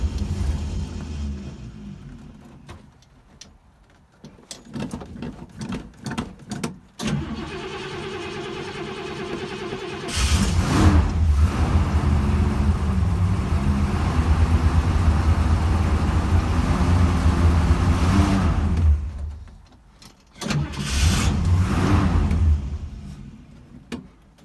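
A hand-started engine with a freshly refitted carburetor and the choke barely open coughs through several short cranking bursts, then catches and runs loud and rough for about nine seconds before cutting out and briefly firing again.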